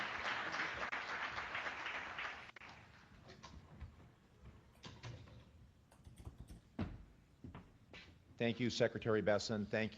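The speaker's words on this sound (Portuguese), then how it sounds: "Citamos Scott Bessent, a plateia aplaude." A crowd applauds in a dense patter of clapping that thins out into scattered claps and room noise before a voice begins speaking.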